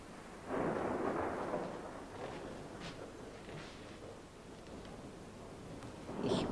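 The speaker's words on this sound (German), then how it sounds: "kommt ein Gewitter, glaube ich." Thunder from an approaching storm rolls in as a deep, broad rumble that swells suddenly, lingers and fades to a low murmur before surging again near the end, heard at a distance with no speech.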